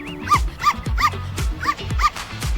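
A small pet dog gives a quick run of short, high yips and barks, about six in under three seconds, close and fairly loud, with a little voice underneath.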